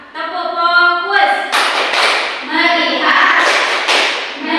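A primary school class performs a rhythmic clapping chant to gain focus in an Indonesian language lesson, with children's voices chanting in unison over crisp, loud, repeated hand claps and taps.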